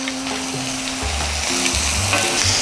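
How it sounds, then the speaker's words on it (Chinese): Fish sausage and bacon rolls, tied with string and filled with raw pork, fry in a pan with a steady, moderately loud sizzle and occasional stirring or turning sounds. "所以呢個煎嘅時間咧都要煎得比較耐嘅"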